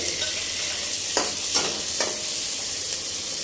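Onion and tomato frying in a pan, a steady hiss under a few soft stirring scrapes.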